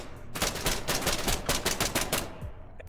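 Rapid automatic gunfire rattles loud and close in the online zombie-horde shooter SCP: Pandemic, a steady burst of shots for most of three seconds before it tapers off.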